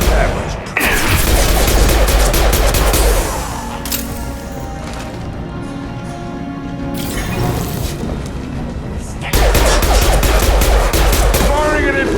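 Dense automatic gunfire and impacts from the video game Mass Effect 2, a loud sustained barrage for the first few seconds that drops to a quieter rumbling lull before the heavy firing returns.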